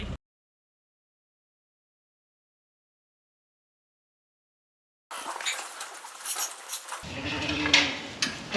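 Sheep on a farm: about five seconds of silence, then close rustling and shuffling noise, with a short bleat rising near the end.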